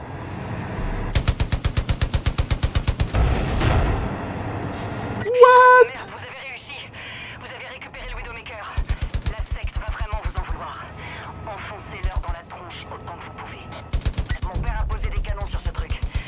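Bursts of rapid automatic gunfire from Far Cry 5, loud and repeated in several volleys, with a short electronic jingle and a voice in between.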